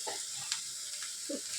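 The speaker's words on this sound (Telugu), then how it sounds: "ఈ ఆనియన్స్ గోల్డెన్ బ్రౌన్ కలర్లో వచ్చేంత వరకు ఫ్రై చేసుకోవాలి" Chopped onions with turmeric frying in a pan until golden brown, giving a faint, soft sizzle with a few light stirring scrapes in a quiet kitchen.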